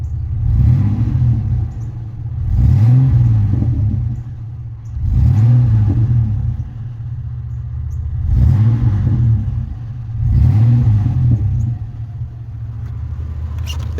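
A 2001 Chevy Blazer Xtreme SUV engine idles with a deep rumble and revs up four times in a steady rhythm, each rev swelling then falling back, loud and close.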